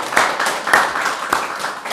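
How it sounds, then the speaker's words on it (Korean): A church congregation applauding after a prayer, with dense, steady clapping from many hands and a few louder peaks, lasting about two seconds. "우리 하나님께 박수로 영광을 돌리겠습니다"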